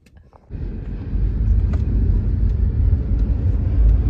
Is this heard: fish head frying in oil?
no